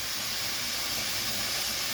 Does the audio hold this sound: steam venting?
yes